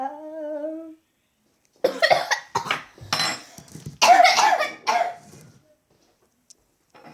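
A single short burst of coughing, then a pause and several more harsh coughs and throat-clearing sounds, close and fairly loud, ending in near silence.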